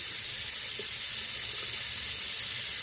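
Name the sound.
washing pork ribs under cold running water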